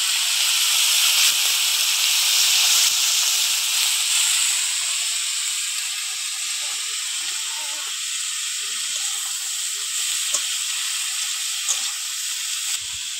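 Gima greens hit a hot pan and set off a loud, steady sizzle and hiss that keeps going close up and eases off only slightly over time.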